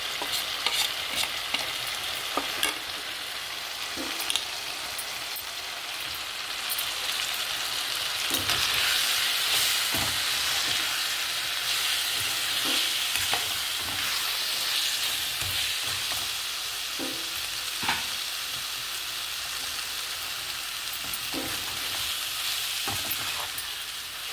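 Mixed vegetables are sautéed in a pan, a steady close sizzle running throughout with regular clicks and scrapes from stirring, and no one speaking.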